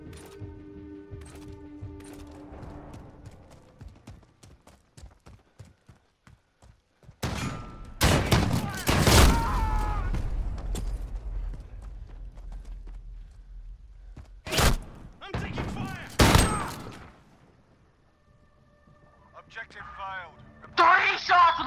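Shotgun blasts in a Call of Duty: Modern Warfare 2v2 match, a few loud separate booms spread among quieter game ambience and footsteps, with people talking throughout.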